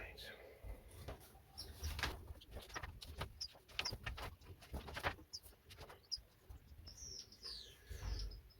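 Irish fancy birds in a bird shed give repeated chirps and coos amid clattering movement, with someone talking over the busy, fairly close chatter.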